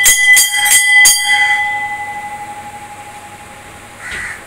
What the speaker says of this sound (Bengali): এই যে এবার ও ঘন্টাটা বাজাচ্ছে।